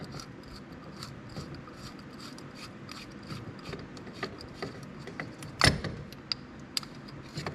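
Brake pads being worked free from the front brake caliper of a 2002 Yamaha Kodiak ATV: faint metallic scraping and small clinks over steady background hum, with one sharp loud clank partway through and a few lighter taps after.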